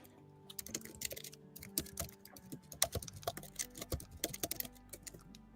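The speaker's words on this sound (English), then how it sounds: "Who's typing?" Rapid irregular clatter of keys on a computer keyboard, close and crisp, with bursts of fast keystrokes and brief pauses, no voices.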